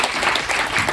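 Audience applause for a speaker at a university dialogue event in Tokyo, a dense, steady wash of clapping from a full hall filling the whole second.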